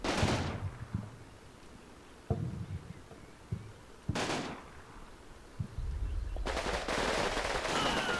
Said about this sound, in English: Oh, that was a mean grenade. That took out a lot of guys.